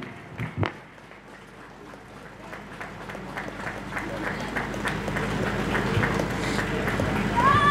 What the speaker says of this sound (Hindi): तालियां का कमी नहीं होना चाहिए, जोरदार बजना चाहिए।